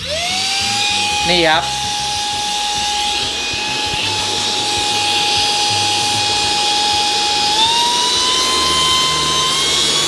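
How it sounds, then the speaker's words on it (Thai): Jowsua Power Max cordless vacuum cleaner running at its strongest setting, a loud steady high-pitched motor whine with a slight rise in pitch near the end, close by, after a brief spoken word at the start. "ลองมาฟังเสียงเครื่องดูดฝุ่นกันดูดีกว่าครับ"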